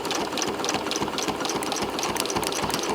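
Domestic sewing machine quilting with invisible thread around an embroidered appliqué, running steadily at close range with a fast, even needle rhythm and no pauses or voices.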